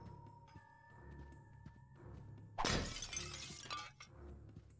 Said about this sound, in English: So I just need to shatter frames?